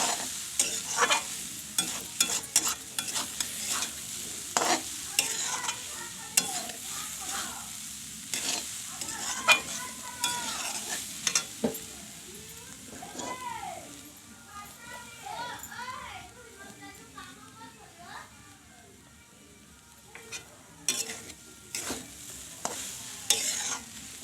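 Grated coconut frying in a pan while being stirred, a soft continuous sizzle with repeated scraping strokes of the spatula, close and moderate in level, with someone talking throughout and children's voices in the background.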